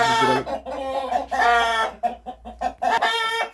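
Several roosters crow loudly and close by, one long call after another with brief clucks in the gaps.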